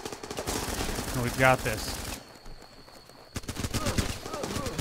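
Rapid automatic gunfire crackles in the war game Running With Rifles, dense bursts of shots filling the first two seconds and resuming near the end after a brief lull, with someone talking briefly over it.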